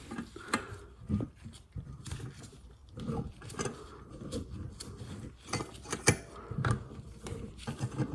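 Valve spring compressor being slowly backed off an engine valve on a Renault 5 Turbo cylinder head in a garage, giving a series of close metallic clicks, creaks and scrapes with no talking.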